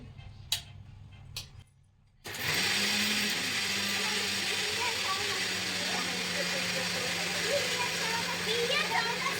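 A mixer grinder grinds idli batter, starting abruptly after a few quiet seconds and then running as a loud, steady whirring drone, with a voice talking faintly before it starts.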